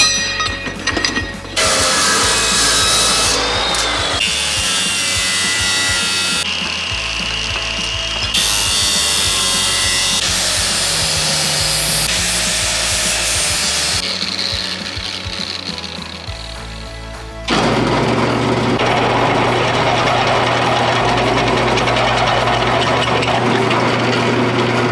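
A power tool cuts through a metal reinforcement piece for a truck in a workshop, loud grinding-saw passes starting and stopping in several long bursts with brief pauses between, no talk.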